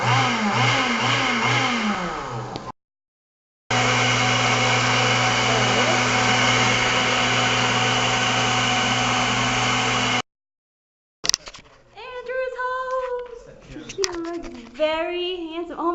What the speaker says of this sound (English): So now we're gonna put all of that in the blender